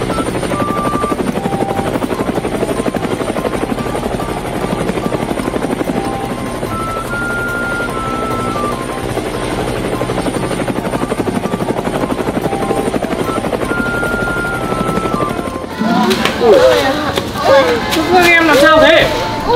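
A helicopter flies past with a steady rotor chop and buzzing whine throughout, joined near the end by louder, closer rotor noise. Voices talk faintly in the background.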